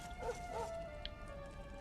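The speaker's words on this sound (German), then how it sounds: "Das ist doch unser Hund!" A dog in the video game Dragon Quest XI gives two faint, quick yipping barks over a low, steady background hum.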